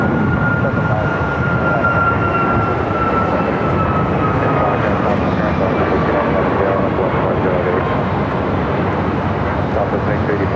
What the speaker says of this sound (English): There we got that Prime Air, converted 767